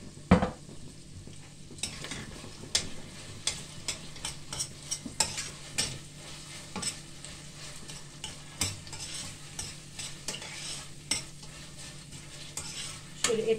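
Spoon stirring tomato and pepper paste with meat, onion and garlic in a frying pan, giving repeated sharp scrapes and clinks over a low sizzle, near and without talk.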